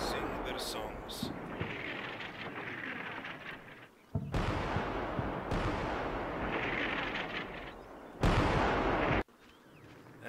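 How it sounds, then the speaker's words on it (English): Heavy artillery fires in the Combat Mission Shock Force 2 war game as a series of deep booming blasts and rolling rumbles, loud and sustained with abrupt cuts between shots, while someone talks over them. "The heavy guns sing their songs."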